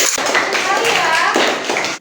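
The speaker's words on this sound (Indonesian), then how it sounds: "tepuk tangannya." Classroom applause after a student group's maths presentation, a short burst of clapping hands mixed with children's voices talking over it before cutting off abruptly.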